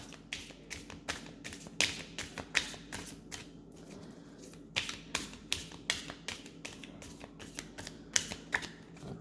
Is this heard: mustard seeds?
no